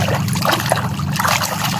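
Water drips and trickles steadily at a fishing spot where snakehead fish are caught, a close, continuous watery patter with no voices.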